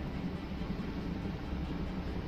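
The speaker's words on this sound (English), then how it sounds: "The chopper can land." A helicopter sets down in the Cepheus Protocol game, its steady, dense rotor and engine roar loud and unbroken throughout, with no talking over it.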